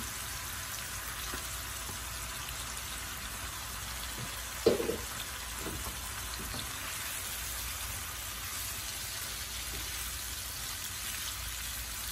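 Rui fish fries in a pan with a steady, even hiss of hot oil, close and moderate in level, broken by one short clatter as the fish settles in.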